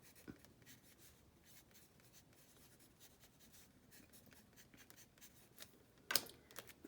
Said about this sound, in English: I'm just going to write